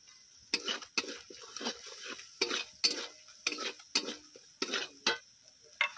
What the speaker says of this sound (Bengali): সব কিছু একসঙ্গে খুব ভালো করে কষিয়ে নেব।